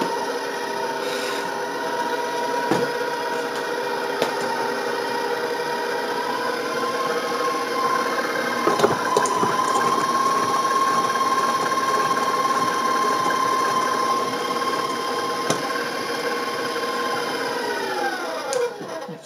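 An electric stand mixer blends snickerdoodle cookie dough made with egg, giving a steady, continuous motor whir with a scraping rasp that runs for about eighteen seconds before winding down at the end.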